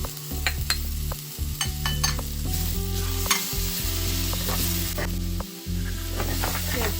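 Grated coconut, garlic, chili and peanuts being stirred into tender baby jackfruit in a pan give a continuous close sizzle with repeated scraping and clicking of the spatula, while a low steady hum runs underneath.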